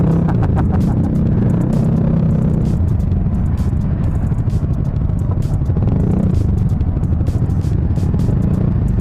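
Motorcycle riding through road traffic near a railway construction area in Biñan, Laguna, a loud continuous engine rumble and throb with rattling clatter close by, steady throughout without talk.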